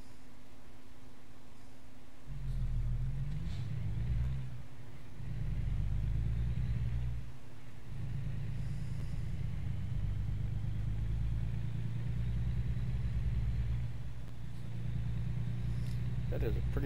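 A truck engine in the American Truck Simulator video game gives a low, steady rumble and hum that rises and falls slightly as it drives, with a person talking over it.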